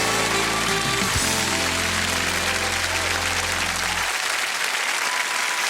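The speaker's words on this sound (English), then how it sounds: "let's have applause for Steve Edward." TV studio audience applauding loudly on a talent show, a dense roaring wash of clapping over held band music that drops out partway, leaving the applause alone.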